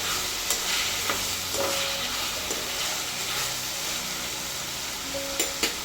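Village-style country chicken fries in a pot, giving a loud, continuous sizzle and hiss with occasional faint clicks of stirring, close and steady throughout.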